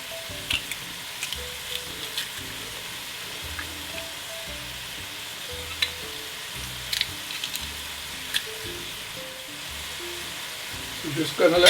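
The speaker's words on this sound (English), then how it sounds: "now we're going to add our garlic" Garlic sizzles in a hot pan for chicken pumpkin noodle soup, a steady frying hiss with occasional stirring clicks, while a voice murmurs faintly underneath.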